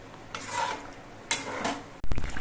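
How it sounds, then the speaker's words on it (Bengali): Mustard paste being stirred into a thick silver carp fish curry in a pan, two brief scraping stirs followed by a sharp clatter of utensils at the end. "সর্ষে বাটা দিয়ে নেড়ে চেড়ে মিশিয়ে দিতে হবে"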